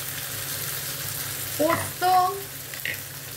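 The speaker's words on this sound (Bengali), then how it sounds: "আর একটা মাছ আপনাদের ভেজে দেখাচ্ছি" Rohu fish frying in hot oil, a steady soft sizzle with a brief voice and a few stirring clinks partway through.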